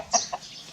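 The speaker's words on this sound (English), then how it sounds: "we have only 4 chickens and 2 roosters." A chicken or rooster clucks twice in quick succession, close and fairly clear, against a quiet outdoor background at a small guest-house flock of four chickens and two roosters.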